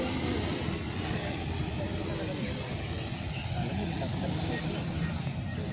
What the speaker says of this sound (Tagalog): Industrial drone daw tawag ito mga kaibigan.